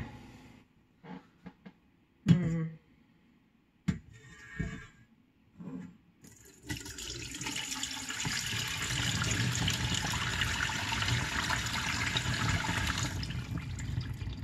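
Turkey broth pours out of an Instant Pot into a bowl in a home kitchen: a few scattered knocks and clunks, then a steady, sustained liquid rush that runs for several seconds.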